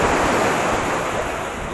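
Sea waves wash steadily onto a beach, a continuous near roar of surf with wind buffeting the microphone throughout and no voices.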